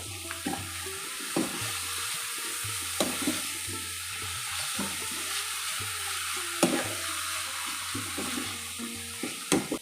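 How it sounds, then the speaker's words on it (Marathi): Finely chopped dill stirred in a pan, a low sizzle running under repeated soft scrapes and clinks of the spoon against the pan, close and steady across the whole stretch with no speech. "आता यामध्ये घालायचं आहे बारीक चिरलेला शेपू आपल्याला हे व्यवस्थित मिक्स करून घ्यायचं आहे"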